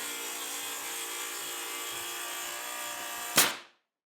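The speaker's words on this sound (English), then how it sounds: "We like to use our Makita rail saw." A Makita rail saw cuts through a saveBOARD lining board with a steady, loud whining buzz that holds evenly and then stops abruptly near the end.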